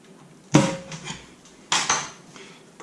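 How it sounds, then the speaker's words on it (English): Metal screwdriver scraping and clanking against a TH350 automatic transmission pan as it is pried loose to break the gasket seal, two sharp metallic strikes with brief rattling after each, close and without talk. "Now we'll use a screwdriver to break the seal on our pan."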